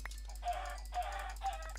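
Chickens in a video game's automatic chicken farm give three short, quiet clucks in a quick, even sequence, with no talking.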